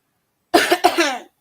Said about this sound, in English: clearing your throat like that?